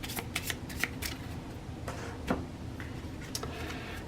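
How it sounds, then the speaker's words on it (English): Cards from the monster deck of the Horrified board game are shuffled in a continuous riffling patter with sharp snaps, close and steady throughout. "We'll have a monster deck. Give that a shuffle."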